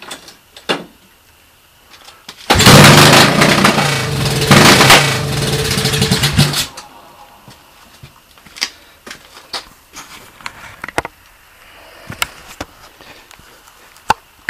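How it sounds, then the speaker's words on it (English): A Honda 200X motorcycle engine with an ignition fault briefly fires up: a loud, close, rough burst of engine running for about four seconds, then it dies, followed by scattered clicks and mechanical knocks. "Kind of fires up for, you know, like a dozen beats."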